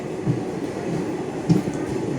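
Steady low rumble inside a second-class AC carriage of the Hussain Sagar Express at Tandur railway station, with a couple of soft bumps and no clear talk.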